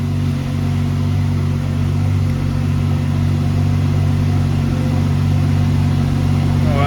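A Porsche 991 engine runs at a steady idle, a loud, constant, even hum with no change in pitch throughout.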